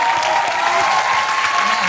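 A television studio audience claps steadily and loudly on a talk show, a dense continuous applause with crowd noise and a voice speaking over it.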